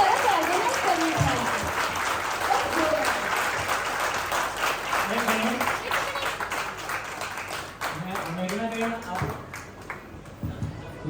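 A crowd applauds at a garba dance workshop, dense clapping sustained over several seconds while a voice talks intermittently on top of it.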